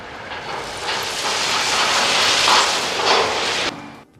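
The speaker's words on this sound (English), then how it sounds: "and the load is dumped." A 2021 MAN TGS dump truck tips its load, a loud sustained rushing, roaring pour of material over the engine drone for about three seconds, close by, ending abruptly.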